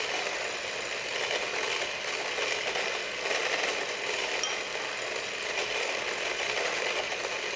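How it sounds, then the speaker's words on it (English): An electric mixer beats egg whites with powdered sugar for meringue, a steady, even whirring drone that continues unbroken throughout, with no talking. "I'm just beating till kind of foamy"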